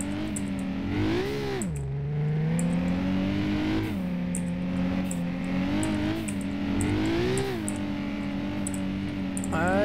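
A Toyota Supra's engine in the BeamNG Drive video game revs loudly and continuously, its pitch rising and falling repeatedly as the car accelerates and lets off, with a steady droning whine throughout.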